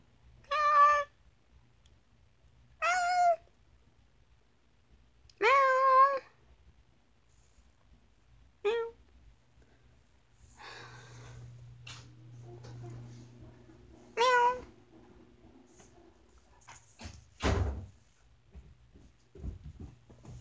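Indoors, a kitten gives about six separate meows spaced a few seconds apart, close and clear, with soft rustling and bumps between the cries.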